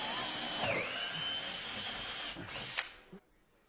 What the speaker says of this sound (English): we're going to move the trolling motor out of the way, drill some holes